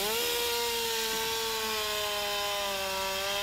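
A chainsaw cuts through the trunk of a large outdoor Christmas tree, its engine holding a loud, steady whine that sags slightly in pitch as the chain bites into the wood, running unbroken for several seconds.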